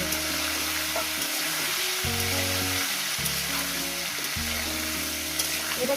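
Cauliflower and potato frying in a pan over a medium gas flame, a steady close sizzle and crackle running throughout with low rumbling beneath and no talking.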